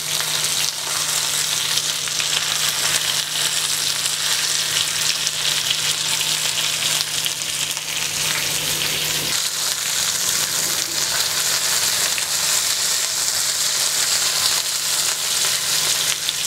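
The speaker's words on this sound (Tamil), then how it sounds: "ரெண்டு சைடும் நல்லா ஃப்ரை ஆயிடுச்சுங்க" Karimeen (pearl spot fish) frying in a pan for a Kerala dish, a steady loud sizzle of hot oil that continues without pause, a low hum running underneath, no voices.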